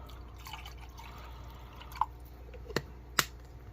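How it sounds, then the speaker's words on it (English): Water poured into a government handout ration meal drips and splashes in a few small, distinct plops over quiet background, faint and close. "Why don't we go ahead and try to add a little water and see what happens?"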